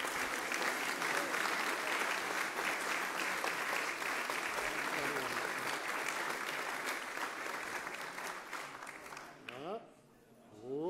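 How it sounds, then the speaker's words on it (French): Warm audience applause at a friendship charter signing ceremony, sustained dense clapping from a crowd that fades out near the end as a voice begins to speak. "que je vous demande d'applaudir chaleureusement"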